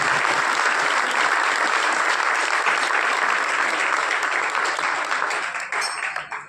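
Sustained applause from a theatre audience for the performers of a devotional drama at a dance and drama festival, dense and steady before fading out at the end.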